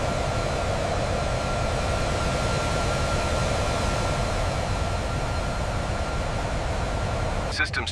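Steady, loud jet roar of a C-17 Globemaster III taking off, a broad continuous rumble and whine holding without a break for the full length.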